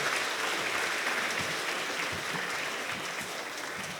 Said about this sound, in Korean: 큰 박수로 우리 축복하도록 하겠습니다